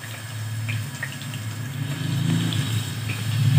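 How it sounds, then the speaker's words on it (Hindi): Potato and cauliflower pieces fry in oil in a pan without water, giving a steady low sizzle and crackle with occasional faint pops, close and continuous, with no talking. "ये फ्राई किया है हमने, अब देखें ये फ्राई हो रहे हैं।"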